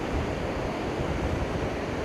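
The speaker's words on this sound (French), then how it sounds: "Là c'est la marée montante." Rising-tide waves wash steadily onto a windy shore, a constant broadband roar of surf with gusty wind noise on the microphone and no voices.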